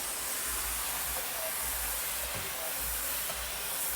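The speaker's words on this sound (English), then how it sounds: "right here in this area where the most traffic is, I like to steam it down" A Wagner 915e on-demand steam cleaner steams a high-traffic patch of carpet, giving a quiet, continuous hiss with faint low pulsing underneath.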